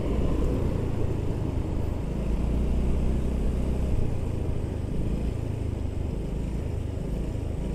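A 2021 Yamaha Ego Gear 125cc scooter-style motorcycle hums steadily on a test ride around a roundabout in Malaysia, a continuous close engine drone with low rumble and wind noise throughout.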